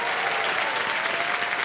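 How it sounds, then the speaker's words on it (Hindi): Studio audience applauding loudly on a TV quiz show, Kaun Banega Crorepati with Amitabh Bachchan, a dense steady wash of clapping filling the whole moment without a break. "देवी सज्जनों, एक बार फिर तालियां बज जाए।"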